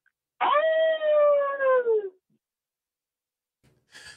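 A caller's voice imitates a throaty dog howl, one long sustained wail lasting under two seconds with a slowly falling pitch, loud and close, then a brief fainter sound after a pause.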